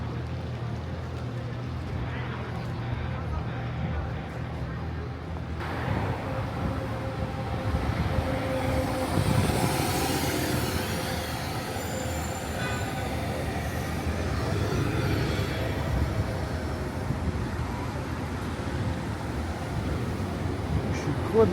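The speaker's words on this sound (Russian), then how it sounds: "Ну все, вот мое метро." A Rome metro train rumbles near a platform, its low mechanical roar building and swelling midway with faint wheel hiss, a few voices underneath.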